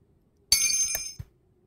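Bright jingling bell sound effect in the indie horror game Frosty Nights, a short burst of about three-quarters of a second with a brief second chime after it, heard alone.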